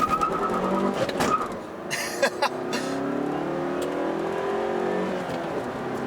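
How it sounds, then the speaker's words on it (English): A 2017 Mazda3 GT with a six-speed manual launches hard on a clutch dump, engine revving high as the front tires spin and smoke, with quick stuttering thumps of wheel hop before a steady rising engine note. "It has enough power to smoke the front tires, and what you heard was a little bit of wheel hop."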